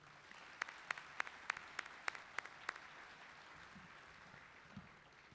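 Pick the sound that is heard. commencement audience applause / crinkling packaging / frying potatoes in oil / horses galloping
commencement audience applause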